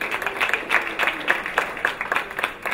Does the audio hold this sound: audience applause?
yes